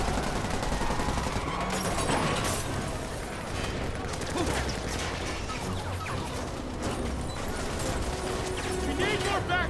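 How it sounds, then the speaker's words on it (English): Rapid bursts of gunfire and crashing impacts fill a busy, dense soundscape, with shouting voices mixed in throughout, from Marvel's Spider-Man on PS4, officers under fire in Times Square. "Gunfire, I see trouble."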